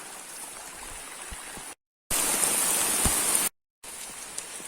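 Rain falling outdoors over a doline with water cascading toward a cave entrance, a dense steady hiss of drops and running water, close and loud, cutting out twice briefly with no talk.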